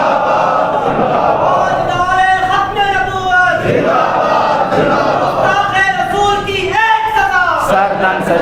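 A large crowd chants religious slogans in unison at a gathering, loud and sustained, with repeated rhythmic shouted phrases rising and falling throughout.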